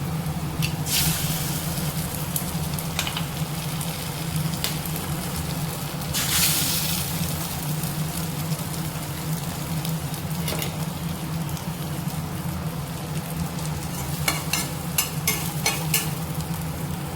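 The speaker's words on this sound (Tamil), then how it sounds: "இது கூட நான் 2 முட்டை சேர்த்துக்கிறேன்." Two eggs frying and being stirred in a pan while a children's tiffin dish cooks, giving a steady close sizzle with scattered scraping stir sounds throughout.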